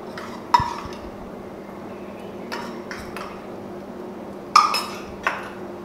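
A spoon stirs ginger garlic paste into mutton rassa in a cooking pot, giving a handful of sharp metallic clinks and scrapes spaced over several seconds against a quiet background hum, with no talking.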